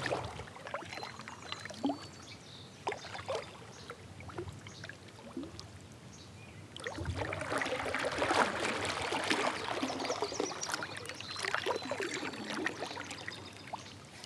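Water splashing and trickling around a kayak on a river while fishing, with quiet drips and paddle sounds at first, then a closer, louder stretch of swishing water.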